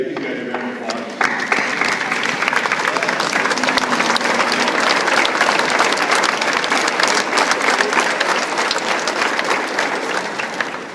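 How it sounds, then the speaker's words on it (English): A workshop audience stands and gives a loud, sustained round of applause, thick steady clapping from a large crowd after a brief spoken lead-in. "Give these guys a round of applause."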